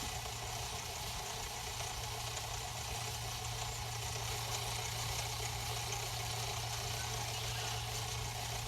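A rotating compost sifter tumbles garden soil in its drum, giving a steady, continuous mechanical drone with low rumbling throughout, fairly loud and close, with no talking.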